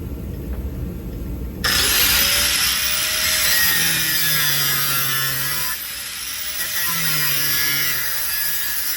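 A power tool cuts through a car body panel on a 1949–51 Mercury after the Dynamat has been cleaned off, a steady loud grinding whine that starts after a quiet lead-in and keeps a wavering pitch throughout.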